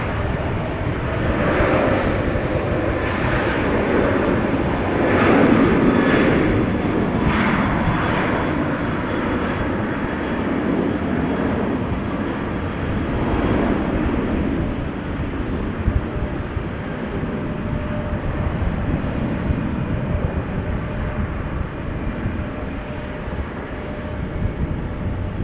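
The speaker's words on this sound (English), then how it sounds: "And that is Qatar coming this way, going to Doha." A Qatar Airways airliner bound for Doha passes Amsterdam Schiphol Airport, giving a steady, loud jet roar that holds broadly level for the whole stretch, with no voices over it.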